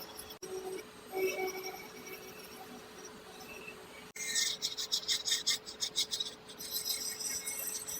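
A man-in-the-moon wood carving is sanded by hand with quiet rasping strokes, first a few faint scrapes, then a denser run of rapid rubbing bursts close to the microphone, with no talk.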